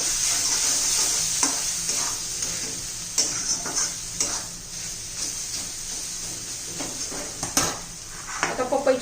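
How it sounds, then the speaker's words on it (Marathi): Turmeric, coriander powder and homemade spice mix are sautéed with raw papaya pieces in a pan. Close scraping and stirring clatter over a light sizzle come in irregular strokes, with a few sharper knocks. "थोडीशी हळद आणि एक चमचा धना पावडर ते पण छान मसाले आपण परतून घेऊ"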